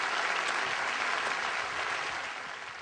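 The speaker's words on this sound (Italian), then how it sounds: "E un applauso ad Agostino Ferrante." A studio audience on a Naples television show applauds Agostino Ferrante, a dense even wash of clapping that tapers slightly toward the end.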